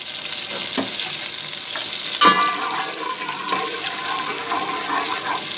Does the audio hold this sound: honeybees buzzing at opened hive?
no